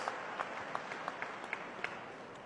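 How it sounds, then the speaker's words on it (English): An audience applauds the judges at a drill competition, a steady dense wash of clapping with a few sharper claps standing out, continuous and moderately loud throughout. "Let us give a round of applause to all of our judges."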